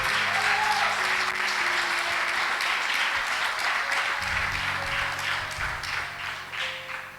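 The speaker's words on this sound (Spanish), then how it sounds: "Dale fuerte ese aplauso al Señor" A church congregation applauds in a steady, sustained roar of many hands that continues for several seconds, with a faint tone held underneath.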